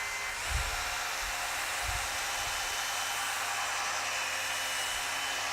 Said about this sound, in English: Start with your mixer at the very bottom of the drum